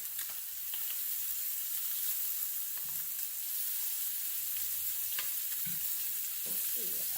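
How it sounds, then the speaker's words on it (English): Scallops searing in a hot pan give a steady, close hiss of sizzling with a few faint scrapes and taps, and no talk over it. "I don't want to burn them, but I want to brown them."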